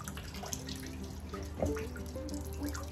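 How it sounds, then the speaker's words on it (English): Water runs from a tap as a cleaning rag is rinsed under it, a steady wet trickle with small drips and one splashier burst partway through, fairly quiet and close with no talking. "You definitely wanna make sure that you get the cleaner off, that you rinse it really well"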